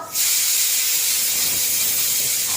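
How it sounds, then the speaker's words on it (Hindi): A home pressure cooker lets off a loud, continuous hiss of escaping steam that starts abruptly and holds steady, close and dominant with no voices over it. "मम्मी यार ये कुकर बंद करो"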